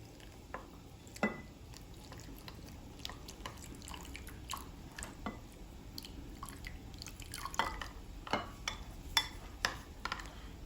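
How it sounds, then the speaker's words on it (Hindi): Cornflour mixed with water for chicken corn soup is stirred in a bowl, soft scraping and light liquid clicks repeating irregularly, quiet and close with no talking. "इसको हम थोड़ा सा पानी ऐड करके तो इसको मिक्स करेंगे।"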